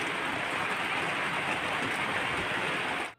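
Steady rain pours down on a rooftop vegetable garden during a harvest, a dense even hiss that holds for about three seconds and then cuts off abruptly.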